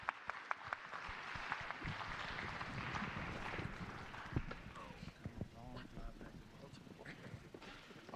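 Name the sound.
audience clapping for reentry panel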